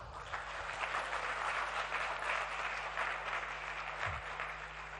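Sustained, dense applause from a large conference audience fills the hall evenly for the whole stretch, loud and continuous, with no individual voices standing out.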